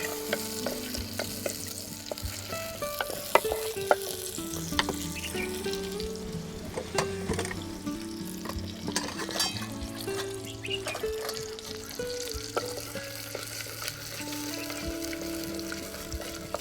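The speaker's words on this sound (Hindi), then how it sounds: "अदरक का तड़का टमाटर के साथ।" Ginger and tomato fry in a pan with steady sizzling and stirring, clinks and scrapes of a utensil throughout, close by, with no voices.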